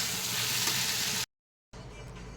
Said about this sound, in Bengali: এই মাছ ভাজা তেলের মধ্যেই কিন্তু এই বেগুন ভেজে নেব।